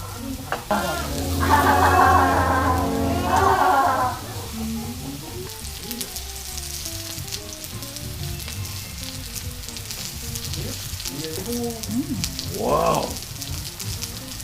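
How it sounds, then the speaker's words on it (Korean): Onions fry in a pan with a steady, crackling sizzle that runs throughout, while a voice briefly sounds over it early on and again near the end. "이거 양파 타는 것 같은데?"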